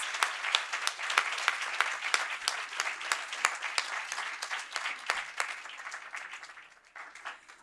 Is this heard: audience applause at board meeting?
yes